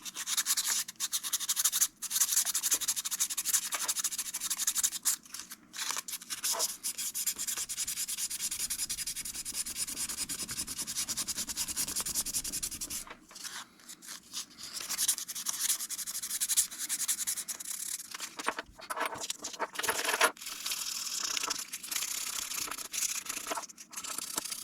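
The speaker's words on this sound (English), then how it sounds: "we're going to be doing a lot of polishing. So I've got some 1000 grit right now" A FAL rifle trigger is polished by hand with 1000 grit sandpaper, giving continuous close scratchy rubbing with brief pauses and strokes of varying pressure over about twenty-five seconds.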